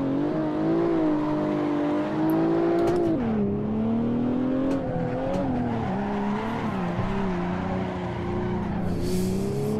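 A BMW 1M drifts with the handbrake, its loud engine droning and shifting in pitch near and steady, while tires hiss and skid underneath throughout.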